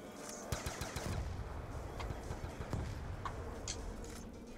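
Gunfire from the video game Call of Duty Black Ops II Zombies: quick bursts of rapid automatic shots near the start, then scattered single shots over a faint background of game noise.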